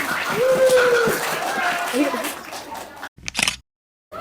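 Elementary school pupils in a classroom clap together, a rough burst of hand claps mixed with chatter, then a short sharp clap cluster before silence.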